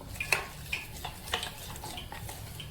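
Paneer matar pakoda batter being mixed in a bowl, with a few light spoon-against-bowl clinks and soft scraping strokes at irregular intervals, close and fairly quiet.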